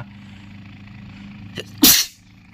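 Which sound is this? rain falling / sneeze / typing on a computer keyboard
sneeze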